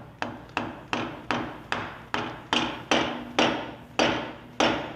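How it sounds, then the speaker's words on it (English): A light maul taps a seal down into a water union housing during a rebuild, giving about eleven sharp, even metallic knocks spaced roughly half a second apart, close and clear with no talk. "take a light maul, a little light, and just tap it down"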